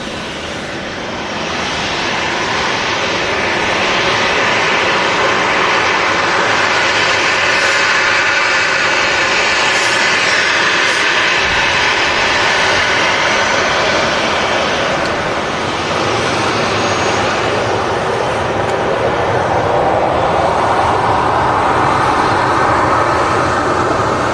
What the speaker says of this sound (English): There is the Lufthansa Star Alliance there waiting to cross runway